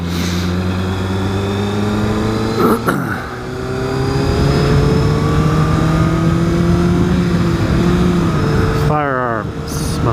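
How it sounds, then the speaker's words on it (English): A sportbike engine braking, loud and close, its steady drone falling in pitch as the rider rolls off, with a brief shift break and a final dip and gear change near the end. "Oh, the engine braking."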